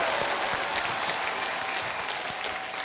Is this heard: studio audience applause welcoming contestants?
yes